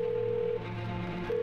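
Steady electronic telephone tones from the phone in the video game Twelve Minutes, a sustained pitch that pauses briefly near the middle and then resumes, clear and fairly quiet with no talking.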